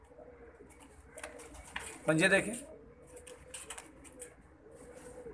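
A pigeon coos briefly and close by, a soft warbling call in the middle, while someone talks over it.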